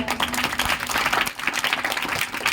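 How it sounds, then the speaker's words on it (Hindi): Students at a school Independence Day assembly clap loudly together, a thick, continuous burst of many hands with rhythmic surges, filling the short stretch without speech. "एक बार महात्मा गांधी के लिए जोरदार ताली।"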